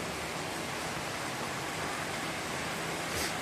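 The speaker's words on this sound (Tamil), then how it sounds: "சாலையில் பெருகெடுத்து ஓடும் தண்ணீர் பயங்கரமாக மழை பெய்கிறது" Heavy rain falls on a residential street in Balaji Garden, Sengundram, Chennai, with floodwater rushing along the road, a dense, steady roaring wash of noise that stays constant and close, with no talking.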